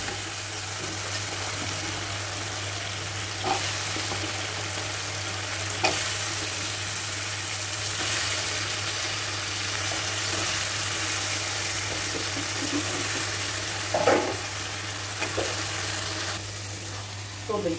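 Potatoes dropped into a tomato tempering fry in a household pan, giving a steady, continuous sizzle close by, with a low constant hum underneath and a few brief clatters of stirring.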